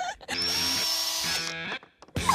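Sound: power drill drilling into a melon

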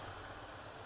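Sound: motorcycle (ADV) engine revving with smart turbo installed

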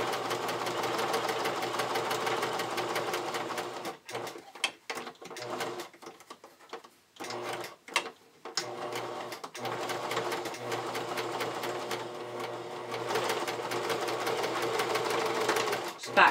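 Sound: sewing machine stitching around edges of fabric ears

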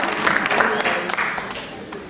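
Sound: applause

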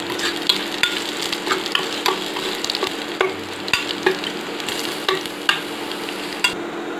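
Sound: stirring chili and fenugreek frying in a pan

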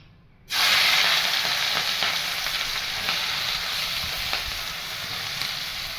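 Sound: dried red chillies frying in oil

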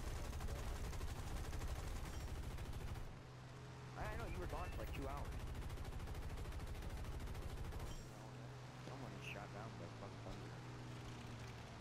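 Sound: machine gun fire from a warplane in the video game War Thunder

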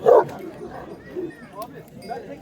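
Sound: dog barking

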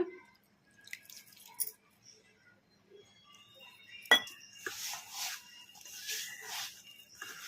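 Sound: mixing pakora batter after adding water

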